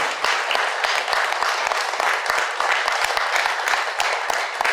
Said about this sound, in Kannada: ಈ ಯಜ್ಞಕ್ಕೆ ಜೋರಾಗಿ ಒಂದ್ಸತಿ ಚಪ್ಪಳೆ ಹೊಡಿಬೇಕು, ತುಂಬ ಜೋರಾಗಿ